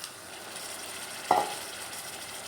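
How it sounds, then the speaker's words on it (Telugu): Chicken and liver frying in a pan give a soft, continuous sizzle, broken by a single brief clink of a utensil midway. "ఇది పచ్చివాసన పోయేంత వరకు ఫ్రై చేసుకోవాలి"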